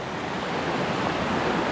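Rain-swollen river water rushes during a trail crossing on a canyon trek, a dense steady close roar with no voices.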